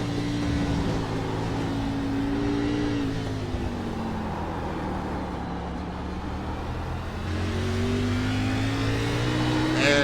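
Race car engine at Portland, heard from an onboard camera riding with driver Jeff Oaks, droning loud and steady with pitch rising and falling through shifts and turns for about ten seconds, no speech.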